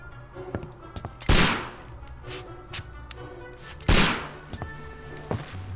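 Gunfire in the Being Sherlock Holmes video game: two loud, sharp shots a few seconds apart, each with a decaying tail, over a low background of game ambience.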